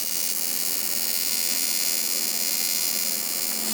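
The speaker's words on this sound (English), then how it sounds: "At least I have air conditioning." An air conditioning unit hums steadily inside a garage, a constant, even electrical drone with no voices and no change in level.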